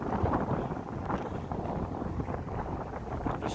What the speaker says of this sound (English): it's windy as F